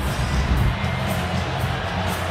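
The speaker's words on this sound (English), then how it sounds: "Perhaps you heard the crowd as soon as they saw it on the big screen. You heard the oohs." A packed NBA arena crowd at a Lakers versus Nets Christmas Day game reacts to a replay on the big screen. A dense, sustained roar of murmuring voices, loud and enveloping, with no distinct individual words.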